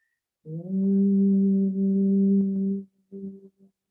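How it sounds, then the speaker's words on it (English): A single sustained hum, voiced on a long exhale during seated chair yoga, holds steady for over two seconds, then a shorter hum follows; close and clear with no talk. "if you'd like to add a humming sound as we exhale"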